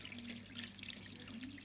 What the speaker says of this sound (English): Rinse the hands under warm water, ensuring to remove all traces of soap.